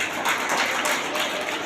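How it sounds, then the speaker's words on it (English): Clapping from students and parents at a school ceremony honouring pupils with full attendance: a dense, steady patter of many hands, fairly close and continuous throughout, with no pauses. "You also clap for them."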